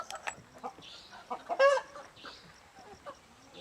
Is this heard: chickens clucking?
yes